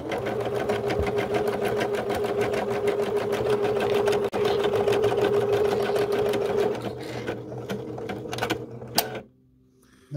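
A Baby Lock Espree EM1 embroidery machine stitches in a fast, steady mechanical rattle for several seconds, then slows with a few clicks and stops near the end.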